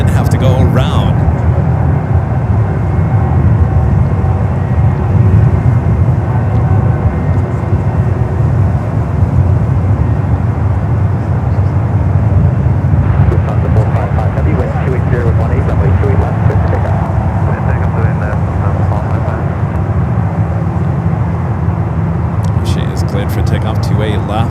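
A Boeing 747-400 airliner in older livery at San Francisco airport gives a steady, loud jet engine roar that lasts throughout, with a faint voice talking at times beneath it.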